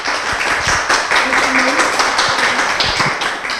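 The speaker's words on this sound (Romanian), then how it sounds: "împreună să aplaudăm pe acești copii minunați" A television studio audience applauds children, a brisk steady patter of many hands clapping throughout, with a voice faintly audible underneath.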